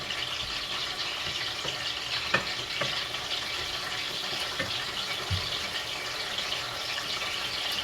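Chopped tomato, onion and pepper seasoning fry in hot oil in a pan, producing a steady, even sizzle with a few faint clicks and stirs, close and alone without talk.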